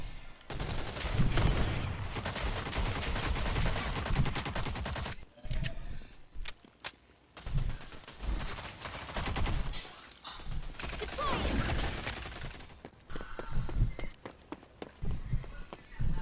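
Rapid gunfire from a weapon in the team shooter game Rogue Company, loud and close, in sustained bursts broken by short pauses.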